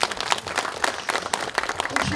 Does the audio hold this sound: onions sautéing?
no